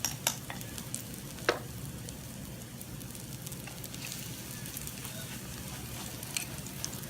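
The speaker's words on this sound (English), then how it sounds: "just let that fry, mama, fry. Well, that's frying away" Steady, dense sizzling of fritter batter frying in a hot pan, with a few sharp clicks and pops early on.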